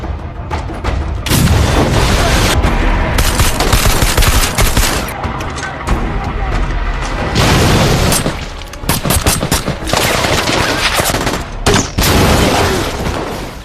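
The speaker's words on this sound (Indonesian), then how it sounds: "Saju melepaskan tembakan kepada para tentara itu" Heavy gunfire in a brutal battle on a bridge: dense, loud bursts of shots and booming blasts crackle almost without pause, with only brief dips between volleys.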